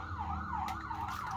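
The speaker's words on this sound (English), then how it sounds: "It is a fire truck." A fire truck siren wails up and down in smooth, repeating sweeps, fairly close and loud over a low engine rumble.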